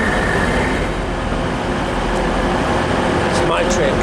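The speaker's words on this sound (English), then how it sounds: "It's my train coming in, the 2015 to Leeds, 158782." An ex-ScotRail Class 158 diesel multiple unit rolls into a station, a loud, close broadband rumble and hiss of engine and wheels sustained throughout, with brief squeals near the end and a voice talking over it.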